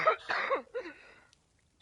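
A single congested cough from a stuffy-sounding player during an online game session, two or three short harsh bursts close to the microphone, fading into silence.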